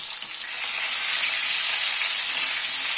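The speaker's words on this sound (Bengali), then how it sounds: "প্রথমে গাজর আর পেঁপেটাকে একটুখানি হালকা করে ভেজে নেবো" Carrots and papaya frying in a pan, with a bright, steady hiss of hot oil that holds evenly and grows a little louder after the first moment.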